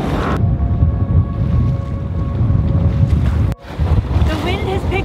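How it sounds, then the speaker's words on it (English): A sailboat runs fast downwind in strong wind, with loud buffeting wind noise on the microphone and water rushing past the hull. Voices talk briefly near the end. "The wind has picked up and we're just careening downwind now. We're going really fast"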